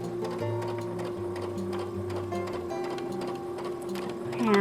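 A sewing machine stitches a fabric mask, its steady, rapid mechanical whir running continuously at close range, with a louder clatter right at the end.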